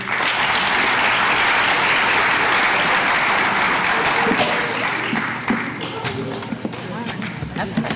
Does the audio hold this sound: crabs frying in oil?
no